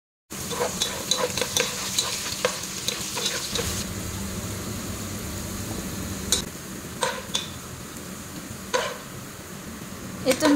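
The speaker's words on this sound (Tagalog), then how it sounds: "Iprito natin ang lahat tapos i-set aside lang natin guys." Zucchini, cauliflower, potatoes, carrots and eggplant frying in hot oil, a steady close sizzle broken by repeated clacks and scrapes of a utensil stirring against the pan.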